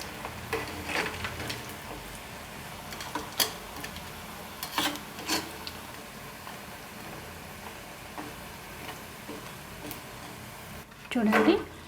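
Challa punugulu fritters made from urad dal and rice, stirred and turned while frying in a pan: scattered scraping and rubbing strokes against the pan, a faint sizzle underneath, and a louder scrape near the end.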